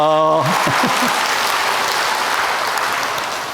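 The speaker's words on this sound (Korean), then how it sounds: "저 이거 말씀드리고 박수 받기는 처음입니다" A church audience at a Bible lecture bursts into dense, loud applause that begins right after a short spoken phrase and holds steady, tapering slightly near the end.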